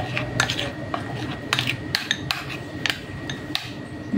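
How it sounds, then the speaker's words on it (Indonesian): A utensil stirs cookie dough mixture in a bowl, producing a series of sharp clinks and taps at an irregular rhythm over a low background. No voices are heard. "Kita aduk sampai tercampur rata."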